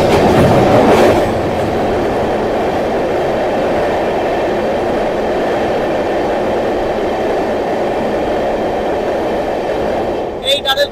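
Sairang–Kolkata Express rumbling through a tunnel on a line of bridges and tunnels, a loud steady roar with a brief noisier swell at the start and a few sharp clanks near the end.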